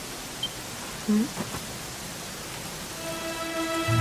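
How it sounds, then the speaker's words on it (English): Rain falls in the Dragon Quest XI video game, a soft, steady hiss throughout, with faint sustained tones rising in the background toward the end. "it was raining like this the last time I ever saw her"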